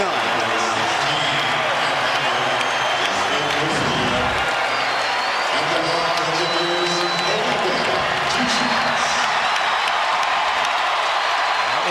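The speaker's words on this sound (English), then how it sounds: "This crowd is on their feet wanting me to get it." A basketball arena crowd on their feet during an NBA game cheers and applauds loudly and continuously, a dense roar of voices and clapping that swells and never lets up.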